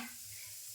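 Luchi deep-frying in a home kitchen on Saraswati Puja, a quiet continuous sizzle of bread in hot oil, short and steady.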